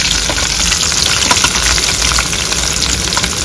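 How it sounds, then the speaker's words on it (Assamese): Green chilies and onions frying in hot oil in a deep kadai pan, a dense, steady loud sizzle that fills the whole stretch with no voices. "আৰু এটা হৈ গ'ল তেল গৰম আৰু দি আছে পুৰা জলকীয়া পিঁয়াজ"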